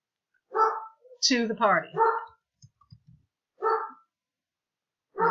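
Several dogs bark in short, separate bursts spread across a few seconds, sharp yips close by in a quiet room, with a person talking in between.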